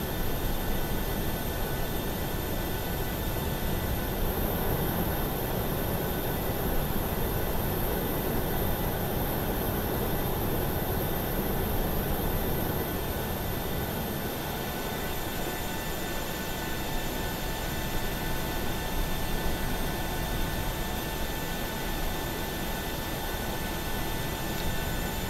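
An airplane in flight in a flight simulator game: a steady, loud engine and air roar drones on evenly with no break and no talk.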